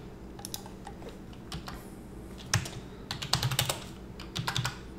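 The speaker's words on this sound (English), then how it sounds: "I'm just hitting the up arrow on my keyboard to bring up that." Computer keyboard keys clack in irregular bursts as someone types and taps the up arrow while programming in Java, crisp close clicks with quiet gaps between.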